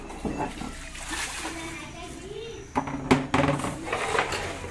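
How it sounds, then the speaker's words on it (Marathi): Water tipped into a cooking pot for Raigad-style veg popati, splashing and trickling in short bursts near the mic, with a voice and other talk in the background. "पाणी बिणी टाकू."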